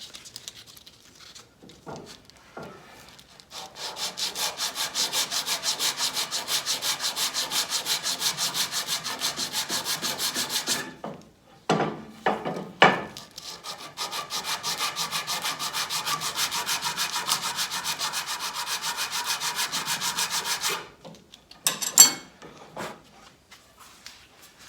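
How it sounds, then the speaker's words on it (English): Reclaimed oak is sanded by hand on a stiff joint in steady back-and-forth rasping strokes, two long close runs separated by a brief pause filled with knocks and handling clatter. "It's a little stiff, so I'm just going to sand that slightly."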